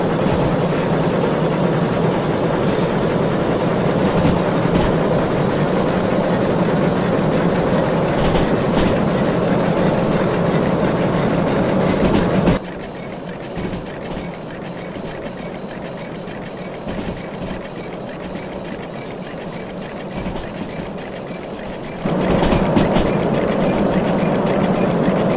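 A train in the rail simulator game Derail Valley accelerates along the track with a steady engine drone and clickety-clack of wheels, dropping to a quieter stretch midway before the full rumble returns, no talk.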